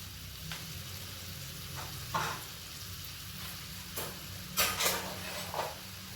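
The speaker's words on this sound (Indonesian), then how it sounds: "Tujuan menumis bumbu ini yaitu memastikan agar bumbu kuningnya mateng" Yellow spice paste sautéing in a pan gives a soft, steady sizzle, broken by a few brief louder bursts where it is stirred and scraped.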